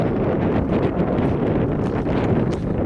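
Cold wind blowing along a bay near a causeway, buffeting the microphone in a dense, continuous roar with gusty rustling, loud and close with no voices.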